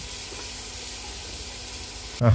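Onions sizzle steadily in a hot pan while being stirred for a mutton curry, a continuous frying hiss ending in a louder burst of clatter and sizzle.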